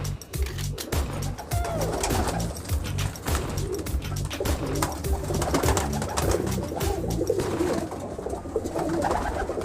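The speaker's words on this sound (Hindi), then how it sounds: "ये सारे नायाब किस्म के कबूतर हैं" Many rare-breed pigeons kept by a breeder coo in low, overlapping throaty bursts, a steady busy chorus with a few brighter chirps and a faint hum of distant traffic.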